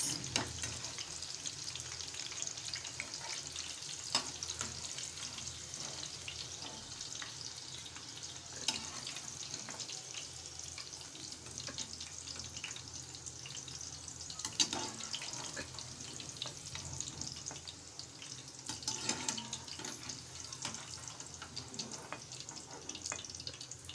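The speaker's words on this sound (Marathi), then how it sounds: "हे सगळे भेंडे आपण तेलात तळून घ्यायचे आहेत" Okra pieces frying in hot oil in a kadhai, a steady, soft, continuous bubbling sizzle with a few faint clinks, with no talking.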